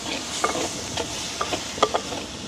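A spoon stirs tomato sauce through a pot of frying garlic, soft scraping strokes repeating every half second or so over a low sizzle, close and alone without talk.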